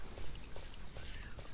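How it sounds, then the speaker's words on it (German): Rain falls steadily in a park in the video game Resident Evil 3, a soft continuous patter of drops hissing across surfaces, even and fairly faint throughout. "Nur, dass es regnet, gefällt mir gerade nicht."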